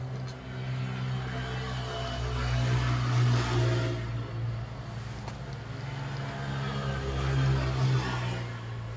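A motorcycle engine rolls along a road, a steady low drone that swells and fades as it passes, moderately loud and continuous with no talking.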